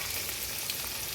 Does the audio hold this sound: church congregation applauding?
no